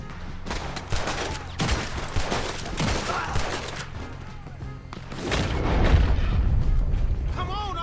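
A Red Dead Redemption 2 gunfight among town buildings, with dense overlapping gunshots and booming reports in irregular volleys, loud and close, building into a heavier rumble toward the end.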